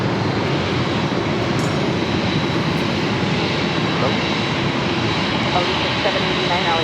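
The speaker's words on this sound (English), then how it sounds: "Kevin Airways, the 737 MAX 8 is our next takeoff" A Boeing 737 MAX 8 jet roars loudly and steadily during its takeoff at LAX, a broad, unbroken engine rumble filling the whole stretch with no letup.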